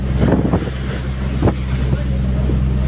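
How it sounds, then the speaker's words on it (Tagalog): A boat pushes through strong waves off Batangas, its steady engine drone rumbling under heavy wind buffeting on the microphone, with a few sharp thumps and splashes as the hull meets the water. "medyo malakas yung gulong natin ngayon"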